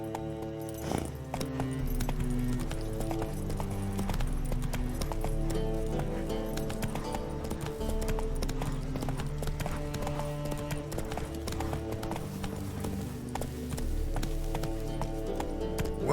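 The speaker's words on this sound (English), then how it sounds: "Hello there, Roach." Horse hooves gallop in The Witcher 3 video game, a fast continuous clip-clop running beneath a steady swell of orchestral game music throughout.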